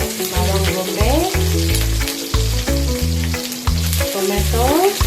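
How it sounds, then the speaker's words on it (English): Onion and other sambal ingredients, including tomato, chili and garlic, sizzle and crackle in hot oil in a home kitchen, with a steady loud frying hiss under background music. "I'm going to fry all the ingredients to make the sambal"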